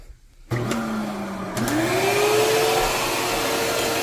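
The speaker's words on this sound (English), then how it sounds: "now to vacuum all this shit up" A vacuum cleaner sucks up soot after a wood stove chimney cleaning, switching on with a click and rising into a steady, close whine that holds loudly alone to the end.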